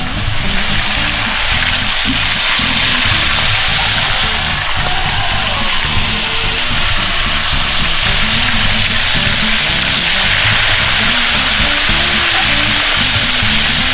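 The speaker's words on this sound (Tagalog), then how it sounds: "umpisa na po natin magprito" Steady, loud sizzling of fish frying in hot oil fills the whole stretch, a continuous crackling hiss with no voices.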